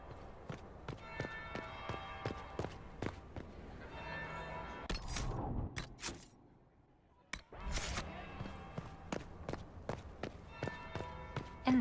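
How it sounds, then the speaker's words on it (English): Bell ringing in the Dragon Age Inquisition video game, a faint repeated tolling beneath busy footsteps and clattering movement, with a brief near-silent gap midway before the steps resume. "That's the bell."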